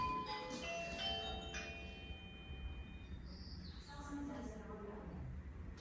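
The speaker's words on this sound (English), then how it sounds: "when someone pushes the doorbell" A gentle multi-tone chime from a Eufy S330 video doorbell rings out faintly through the house, its notes lingering over a quiet room background with soft ambient noise.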